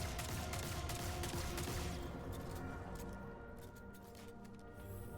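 Gunfire from a Destiny 2 hand cannon amid a busy battle, a cluster of loud sharp shots at the start giving way to quieter, scattered reports over a steady background hum.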